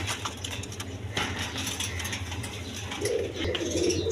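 A pair of silver pigeons, a female and a male sitting on eggs, cooing in repeated soft low calls at close range over light background clatter.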